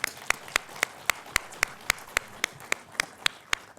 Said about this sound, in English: I just think a round of applause, mate.